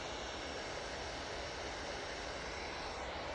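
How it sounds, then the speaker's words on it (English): Etihad jet airliner taxiing to its stand at Manchester Airport, a faint, distant, even engine hum that holds steady for the brief clip. "Etihad making its way to stand"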